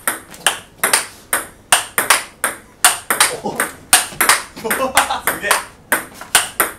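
Table tennis topspin rally with a V>15 Extra rubber: a steady run of sharp, bright ball pings traded back and forth at a quick, even rhythm, close and loud, with people talking and exclaiming over the hits.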